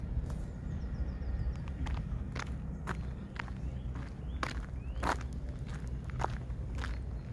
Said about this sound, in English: I love the sound of my footsteps as well